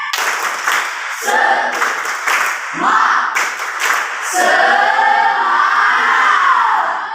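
Indonesian classroom group doing a rhythmic clap chant, bursts of clapping with shouted chanted words in patterned rhythm, loud and close, repeating for several seconds.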